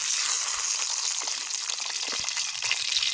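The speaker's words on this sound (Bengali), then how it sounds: "এই যে মাছ ভাজা হচ্ছে তোমাদের দাদার জন্য।" Fish sizzles and spits as it fries in a pan, a continuous bright hiss with scattered crackles and pops close by.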